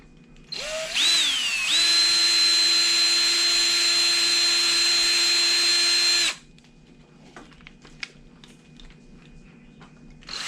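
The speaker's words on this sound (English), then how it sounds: "I gotta pre-drill these holes in my mount here." A power drill pre-drills holes in a mount for a Traxxas TRX4 Defender RC crawler. The motor spins up and holds a loud, steady whine for about five seconds, then stops, leaving faint clicks and handling noises.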